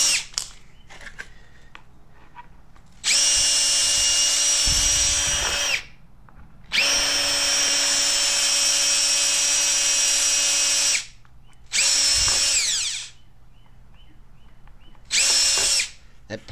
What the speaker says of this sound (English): That plastic was quite hard to drill, well, without having a burr or it flaking.